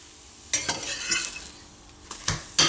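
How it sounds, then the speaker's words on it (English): A chickpea flour pancake flipped in a frying pan, with a few scraping utensil clicks and spatula strokes over a soft, steady sizzle of frying, close and fairly quiet. "all I'm going to do is just flip that over in the pan like so, and then cook the other side"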